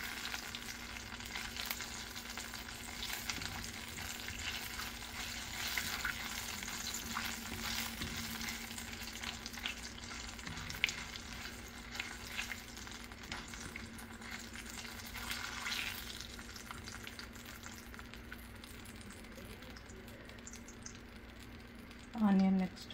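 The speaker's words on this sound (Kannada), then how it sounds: "ಈಗ ಸಾಸಿವೆ ಪಟ ಅಂದಾಜ್ಬೇಕು" Mustard seeds spluttering in hot oil while a moringa leaf dal tempering is prepared, a steady faint sizzle with scattered pops, under a woman's speech and kitchen noise.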